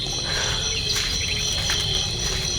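Dense chorus of night insects trills steadily, with faint bird calls mixed in, an even, continuous outdoor ambience.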